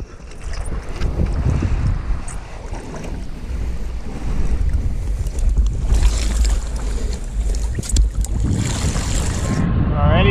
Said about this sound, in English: The wind is a little bit gusty today because it's coming straight over this little peninsula.